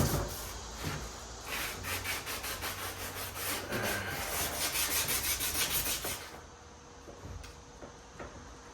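Steady back-and-forth rubbing of sandpaper over a motorcycle body panel around spot putty on a tangerine candy Road Glide, a dense rasping texture for about six seconds before it stops and quieter handling noises follow.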